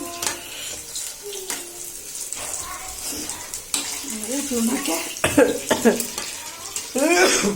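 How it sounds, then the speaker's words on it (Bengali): Chicken pakoras fry in hot oil with a steady soft sizzle, joined by occasional clatter and scraping, while a voice talks over them. "এই যে আমার আরো পাকোড়াগুলি ভাজা হয়ে গেছে এখন তুলে ফেলবো"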